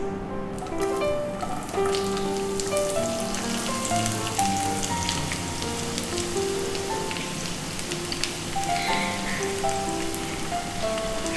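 Onions dropped into hot oil for an egg and peas curry give a steady, dense crackling sizzle that runs unbroken and fairly loud, with no talking.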